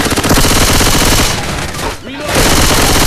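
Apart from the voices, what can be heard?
gunfire in video game Left 4 Dead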